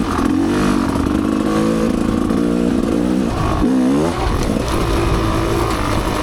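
An MR Pro dirt bike engine runs loud and close on a trail, with repeated throttle blips and revving over a rough idle.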